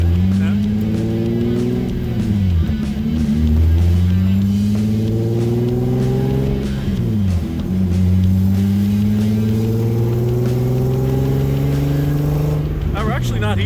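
A VR6-swapped Mk1 Rabbit cruising on the highway, its engine droning loud and close and climbing in pitch through repeated gear pulls, while people talk over the steady road and wind roar.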